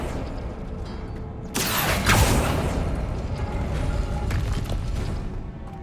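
Rune rings mechanism turning in the Hogwarts Legacy video game, a sudden heavy grinding rumble of stone and metal that starts partway through and keeps churning loudly to the end, with no talk.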